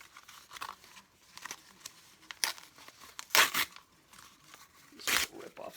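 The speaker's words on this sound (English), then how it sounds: "Just rip off a section here" Frisket film is torn off in several short, crisp rips and crinkles, spaced irregularly and close by, with a voice speaking faintly between them.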